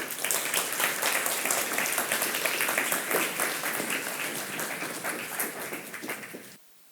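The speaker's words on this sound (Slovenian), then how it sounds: "Lepo prosim za velik aplavz." Audience applauding at a Slovenian conference on upcoming local elections, a dense, steady wash of many hands clapping that holds for several seconds before cutting off abruptly near the end.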